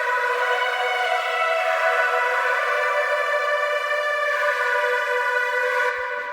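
Bright, buzzy sawtooth synth lead played clean without distortion, a steady sustained tone rich in even harmonics, holding loud and continuous for about six seconds before cutting off.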